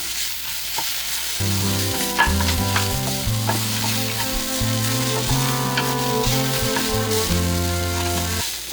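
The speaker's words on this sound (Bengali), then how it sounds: "এখন পেঁয়াজটাকে নেড়ে চেড়ে একটু সফট করে নেব" Onions stirred and softened in a hot pan for a burnt prawn bharta, a loud continuous sizzle with spoon scrapes, close and alone, over a steady background music bed.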